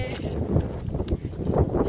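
Outdoor wind gusting and buffeting against the microphone in a car park in Inverness, a steady rough roar with stronger surges, no talk over it.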